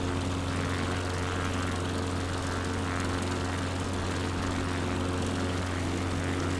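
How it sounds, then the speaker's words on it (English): Steady droning propeller airplane engine from Microsoft Flight Simulator 2020, a continuous even hum with strong tonal bands, moderately loud and unbroken throughout with no talk. "the plane noise and everything may be louder than my music"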